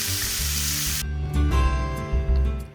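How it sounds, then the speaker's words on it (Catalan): Chickpeas sautéing slowly in a pan with a spoonful of sumac, a loud close sizzle that is dense at first and then thins to lighter crackling and stirring scrapes, with no voices. "anar saltejant els cigrons lentament amb una cullerada de sumac"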